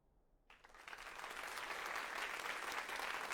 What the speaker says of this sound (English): there's a loud applause